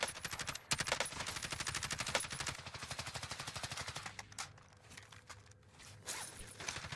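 Rapid automatic gunfire in Call of Duty Warzone, a tight stream of sharp, evenly spaced shots from suppressing fire that runs for several seconds, then thins into scattered bursts and single cracks.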